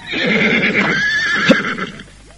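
A horse gives a loud, close whinny that wavers and rises for about two seconds before fading, with no speech.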